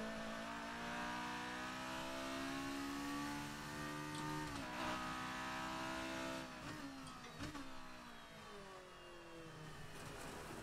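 A racing car engine in a PS4 racing game, loud and continuous, holding a steady high-revving drone with pitch dips as gears shift, plus a few sharp transients around the middle.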